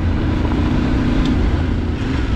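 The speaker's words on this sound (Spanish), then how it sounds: "Lleva la moto bailando para un lado y para otro." A motorcycle riding down a gravel track, its engine a steady, close, rumbling drone with continuous gritty road noise and no voices.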